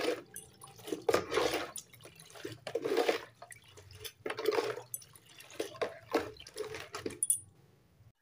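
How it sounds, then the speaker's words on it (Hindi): Sugar being stirred into water in a glass for a sattu drink, heard as irregular liquid swishes and clinking sloshes in short bursts, close but fairly quiet. "तो अब मैं इसमें अच्छी तरीके से मिक्स कर लूँगी चीनी को पानी के अंदर।"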